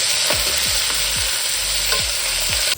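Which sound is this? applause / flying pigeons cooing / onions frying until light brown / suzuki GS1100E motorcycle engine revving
onions frying until light brown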